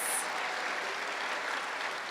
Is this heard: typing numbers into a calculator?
no